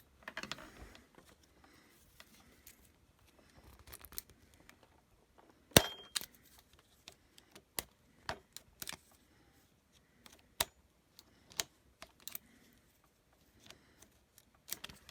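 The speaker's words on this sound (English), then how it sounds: "So I'm going to have to rip this piece of copper off." Copper is pried and torn from an old oil tank gauge float, producing scattered sharp metallic snaps, clicks and cracks with quiet gaps between them, one loud crack standing out near the middle.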